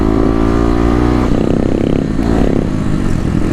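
A Kawasaki KLX dirt bike fitted with an FMF exhaust revs hard nearby, its crisp, raspy engine note rising and falling in loud bursts with some rattling clatter.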